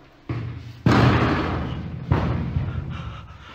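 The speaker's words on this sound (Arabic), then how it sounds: "شفت كيف أتفك الباب ده حق الحمام؟" A bathroom door in an abandoned resort is forced open, giving two heavy close slams or thuds followed by a rattling, scraping rumble that decays slowly.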